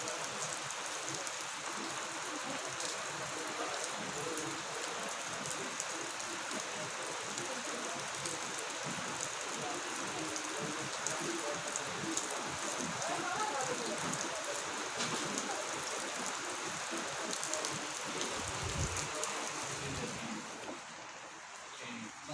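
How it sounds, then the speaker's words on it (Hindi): Heavy rain pours steadily outside a house in Kashmir, a dense continuous hiss of drops spattering on surfaces, loud and unbroken throughout, with some faint voices in the background. "बहुत ज़्यादा बारिश चल रही है।"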